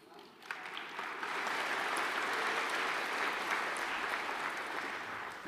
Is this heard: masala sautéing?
no